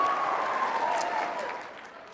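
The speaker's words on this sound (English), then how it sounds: "Give him a round of applause." Brief audience applause for a speaker at CPAC, a wash of clapping that fades slightly over a couple of seconds, with a faint tone lingering underneath.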